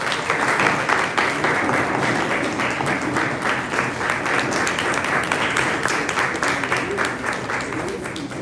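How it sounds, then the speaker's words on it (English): An audience at a book release event applauds steadily and loudly throughout, a dense wash of clapping from a large crowd with no break. "Let's give him a big round of applause."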